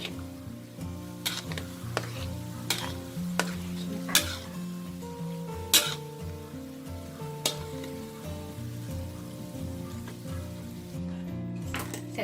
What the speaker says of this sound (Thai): เราคนไปเรื่อย ๆ จนมีความรู้สึกว่าความร้อนเขาเริ่มหายหมดแล้วนะคะ